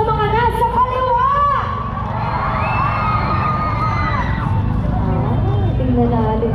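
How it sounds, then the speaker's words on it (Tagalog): A big crowd at a Philippine political rally, with children among them, roars with loud cheering and shouting, a sustained wall of voices and whoops from start to end. "Parinig ng masigabong palakpakan at sigawan sa mga nasa kaliwa!"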